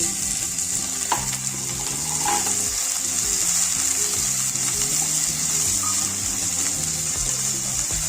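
Onion frying in a pan with nigella seeds while making a green banana curry, a steady close sizzle filling the clip with occasional stirring scrapes and a brief tap-water splash.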